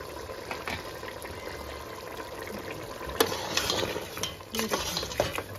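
Tomato frying with mutton in a pan gives a low, continuous sizzle, broken by several louder spoon scrapes and stirs, mostly in the second half.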